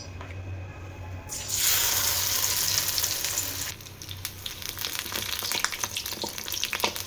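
Battered pumpkin flowers in a rice-flour and gram-flour batter with nigella seeds fry in hot oil in a kadai. A steady loud sizzle swells, then sharp pops and crackles burst irregularly over it, close and without talk.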